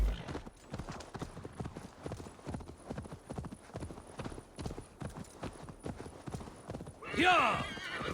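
A horse gallops in Assassin's Creed Valhalla, close and rhythmic hoofbeats pounding in a fast, even pattern, followed by a loud whinny near the end.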